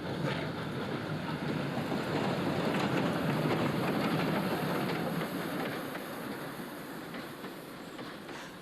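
South Australian Railways steam locomotive 621 Duke of Edinburgh, heard in 1994 on VR trackage: a continuous broad roar of the running train, steady and fairly distant, fading slightly toward the end.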